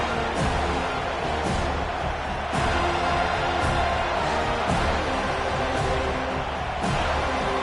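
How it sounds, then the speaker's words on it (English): A football stadium crowd keeps up a loud, dense, continuous roar with occasional sharp thumps rising over it, steady throughout with no clear talk. "Listen to this crowd noise."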